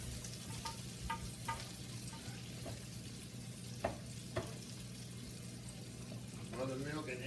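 Chicken-fried chicken, coated in buttermilk, egg and flour, fries in hot grease with a steady low sizzle and occasional sharp pops, fairly quiet and close, with a brief clink and watery stir near the end.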